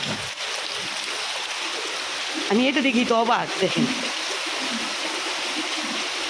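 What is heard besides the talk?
rainwater gushing like a stream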